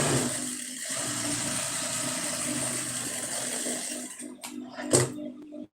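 A sewing machine stitches a lining blouse with a steady mechanical hum and whir, then breaks into a few short, sharp clicks and stops near the end, with no speech.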